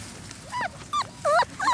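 Pointer puppies on their first outing give a short run of high whimpers and yips, close by and unaccompanied by talk.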